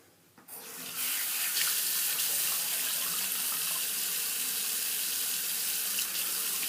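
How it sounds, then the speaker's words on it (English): Hot water runs steadily from a tap as razors are rinsed under it, a broad rushing hiss that starts after a brief moment and continues close by without pause. "we'll go ahead and warm up the razors here for a second in the hot water"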